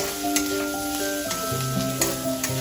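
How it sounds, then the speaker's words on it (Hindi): Vegetables stir-fried with salt and black pepper for street-style veg chowmein, giving a close sizzle with rhythmic scraping strokes of a spatula, over a steady tonal hum in the background. "फिर अच्छी तरह से इसको भून लेंगे।"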